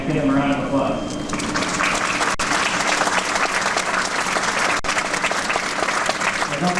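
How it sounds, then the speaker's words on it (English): A ceremony audience applauds the Arkansas Plank Owners with a dense, loud, sustained round of clapping that fills the room and continues to the end, with voices mixed in. "if you would help me give them a round of applause"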